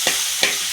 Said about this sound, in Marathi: आता टोमॅटो घालून सुद्धा चांगलं परतून घ्यायचं